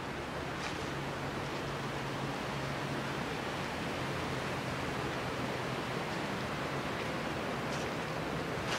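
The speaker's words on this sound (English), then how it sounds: "This is the River Tiber." The River Tiber flowing by as a steady, broadband rush of moving water, continuous and fairly even throughout with no voices, a low hum faintly running underneath.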